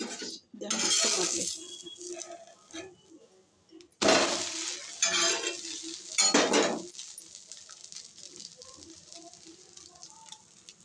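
Dosa (attu) batter cooking in oil on a pan, with a few short bursts of loud sizzling and spattering, separated by quieter stretches of faint crackling and light kitchen clatter.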